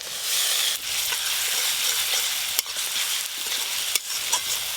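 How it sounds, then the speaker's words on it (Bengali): Ginger-garlic paste fries with onions in mustard oil, giving a loud, close, continuous sizzle with a few sharp stirring clacks and scrapes of the spoon against the pan, with no talking. "এতে আদা রসুন বাটা দেবো। আদা রসুন বাটা,"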